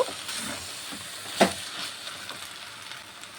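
Fried shrimp is dropped into a pot of cooking potatoes for a banana-flower shrimp curry, giving a soft, steady sizzling hiss with one brief clatter midway.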